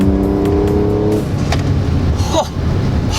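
A supercharged 460-horsepower Audi S4 with a 6-speed and a full Milltek exhaust, its engine note loud and steady at close range, with a brief sharp rise near the end.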